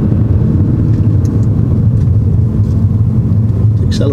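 A car engine drones at fairly high revs during a driving lesson, a loud steady rumble throughout with an instructor's voice speaking over it.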